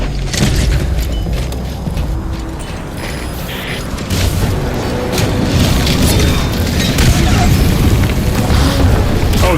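A loud explosion blast in the game Metal Gear Solid V, a sustained booming rumble with crackling debris and mechanical clatter filling the whole stretch.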